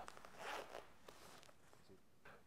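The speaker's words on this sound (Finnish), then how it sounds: "takissa on hyvät ilmastointivetoketjut, joita avaamalla ilma pääsee kiertämään takin kainalon alta" Ventilation zipper on a Sweep Drifter waterproof riding jacket being pulled open, a quiet raspy zip running for about a second near the mic, followed by faint fabric rustles and a few soft later zip strokes.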